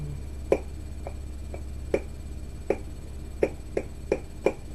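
A tin dip can lid is packed, tapped sharply about seven times in an uneven rhythm, each a crisp metallic click close up over a faint low hum.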